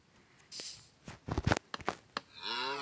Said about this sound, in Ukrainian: Корова, що ти сюди прийшла, а? Корова, уйди.